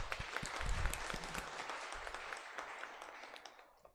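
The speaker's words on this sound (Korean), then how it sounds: "하나님께 영광의 박수를 올립니다." A Sunday church congregation breaks into thick, continuous applause with a low rumble of voices underneath, loud at first and then tapering off toward the end.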